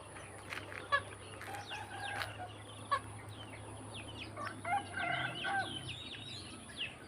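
Faint, distant rooster crowing rises among scattered bird chirps in quiet outdoor countryside air, with a low background hum underneath.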